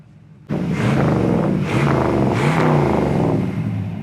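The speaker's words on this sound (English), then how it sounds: "Really nice sounding dual exhaust" A restored 1962 Chevy Impala V8 with a deep, throaty dual exhaust revs up sharply, then rises and falls through several strong revs, loud and close.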